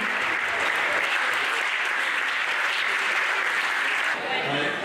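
An outdoor crowd at the 2019 course de louch race claps for three competitors, a loud, sustained burst of applause that stays even for nearly five seconds, easing slightly at the end, with voices mixed into the noise.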